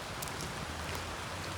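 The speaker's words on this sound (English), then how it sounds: "I think it rains every time." Rain falls in a steady, even hiss, soft and continuous across a campground at night, with no voices.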